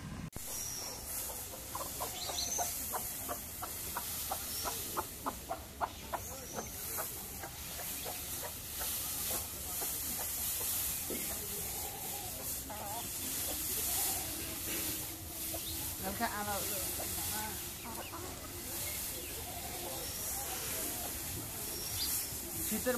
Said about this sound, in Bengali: এখন মাছগুলো দেখে দিয়ে দিই, কষায় দিই।